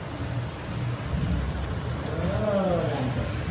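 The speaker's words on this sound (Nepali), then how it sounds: "मुसलधारे पानी परिरहेछ एकदम छ।" Heavy torrential rain keeps up a steady, dense hiss throughout, with a faint voice showing briefly under the downpour.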